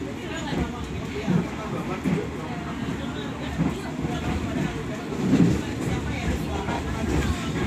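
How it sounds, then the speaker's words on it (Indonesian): The Argo Sindoro passenger train runs fast at about 117 km/h, heard from inside as a steady rumbling roar with periodic wheel thumps, while a person talks over it. "Ini kereta api Argo Sindoro lagi melaju kencang ya teman-teman."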